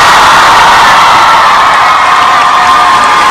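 A loud, dense crowd cheers and applauds at a live Hong Kong concert, a sustained roar of shouts, whoops and clapping filling the whole stretch without pause.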